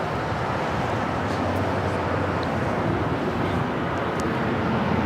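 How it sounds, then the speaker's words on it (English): A Boeing 787-9 Dreamliner airliner at LAX produces a continuous, loud, wind-buffeted jet roar, steady and unbroken from start to finish. "It's the Dreamliner 787-9 and Dreamliner heading to Mexico City."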